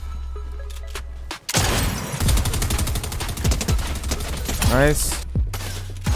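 Rapid bursts of gunfire in the Fortnite arena game mode, a dense fusillade of shots rattling for several seconds with one voice speaking briefly over it.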